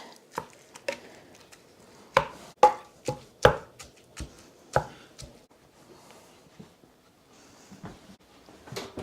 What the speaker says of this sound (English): give it a chop halfway through the bake, so it's easier for the burger to get all completely done